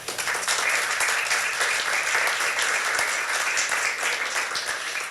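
Loud, dense applause from an audience at a book presentation, welcoming Manuel Martínez Justo, director of the Facultad de Estudios Superiores de Acatlán. The clapping holds steady and close for about five seconds with no talk over it.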